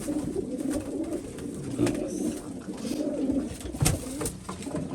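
Pigeons coo steadily in a loft housing Chinese pigeons and ten-day-old chicks, a soft layered cooing under steady rustle, with brief louder calls standing out near the middle and end.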